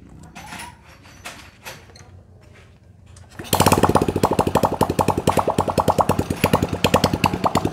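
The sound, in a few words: Honda Supra Fit motorcycle engine started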